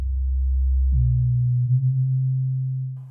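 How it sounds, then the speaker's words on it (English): A pure sine-wave sub bass tone from an Ableton Analog synth, loud and steady, dropping to a slightly higher sustained pitch partway through and holding alone without any other sound. "in the first one change the waveform to sine wave"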